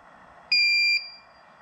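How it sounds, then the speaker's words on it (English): An Aeliussine 2000W pure sine wave inverter gives its low-battery alarm as a single loud, piercing electronic beep lasting about half a second against a quiet hum. "it's alarming because it's telling me the battery is in low"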